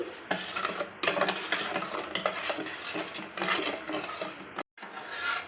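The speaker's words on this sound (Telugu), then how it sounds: "ఈ జున్ను పౌడర్ వేసాక మొత్తంగా బాగా కలుపుకోవాలి" Junnu powder stirred into milk in a bowl, a continuous close scraping and swishing in quick strokes, broken by a brief pause near the end before it resumes.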